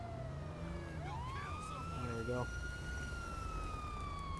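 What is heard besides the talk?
police car siren in a video game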